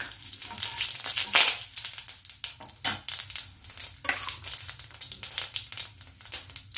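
Bay leaves and whole cumin seeds dropped into hot oil crackle and sizzle loudly up close, with sharp popping bursts over a hissing bed.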